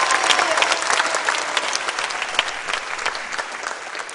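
A studio audience on the Ti Mambo show applauds a dance group, loud dense clapping from many hands that holds steady before easing slightly at the end.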